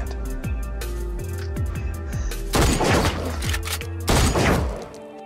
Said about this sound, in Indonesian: Mick yang mendengar suara tembakan bergegas menyusul Lance yang sudah tewas